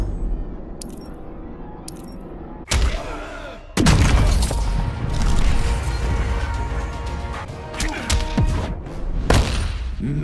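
Gunshots in the fighting game Injustice 2, loud booming blasts and sharp cracks in bursts, mixed with thuds, impacts and clattering mechanical sounds during a fight. Character voices are heard briefly.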